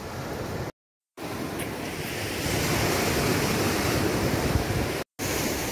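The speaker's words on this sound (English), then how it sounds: "Yes, guys, so this is the beach." Surf washes steadily onto a rocky beach at Palmiste, Grenada, a continuous, fairly loud roar of breaking waves with wind buffeting the microphone and two brief dropouts.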